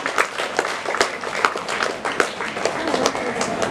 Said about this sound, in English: Please give them a big applause, teachers and children.